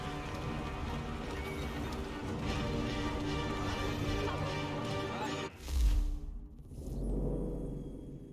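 Horses in Assassin's Creed III Remastered: hoof clip-clops and shuffling, then a short whinny and snort near the end, over a busy in-game ambient background.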